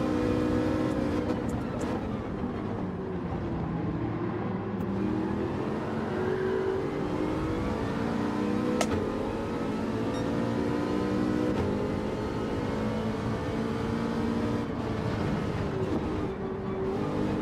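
Aston Martin Vantage engine in Gran Turismo 7 pulling hard up a hill during a standing-start daily race, a steady loud droning roar with rising and falling pitch as it revs, continuous throughout.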